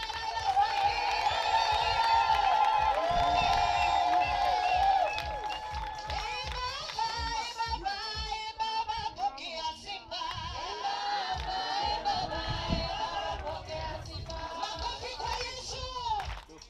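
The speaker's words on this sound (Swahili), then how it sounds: "ningependa tu kwa sauti yako mpatie Bwana shangwe na vigelegele" Mourners at a burial send-off raise loud cheers and high trilling ululation in praise, a dense crowd roar that peaks in the first five seconds and then continues as a busy chorus of shouts and voices.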